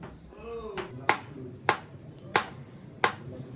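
Boiled potatoes and garlic are cut with a knife on a board, five sharp evenly spaced chops standing out over faint background voices.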